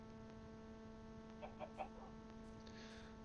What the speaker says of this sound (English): Oh wait, there's a chicken.